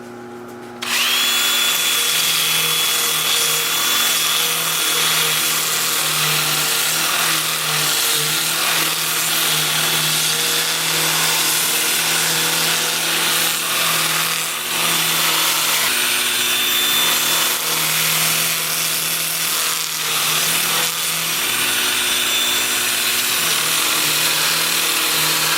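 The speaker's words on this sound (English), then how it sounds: "Now I can spin it up to sand the bottom" A buckeye wood bowl spinning on a lathe while its bottom is sanded, a loud steady whirring hum with a continuous abrasive hiss that runs unbroken for the whole stretch and dips briefly near the end.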